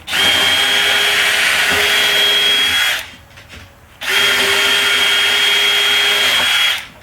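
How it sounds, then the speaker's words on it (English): A keyless-chuck power drill bores through wood, whining loud and steady in two long runs of about three seconds each, separated by a brief pause. "I'm going to drill out the pattern out for the blower."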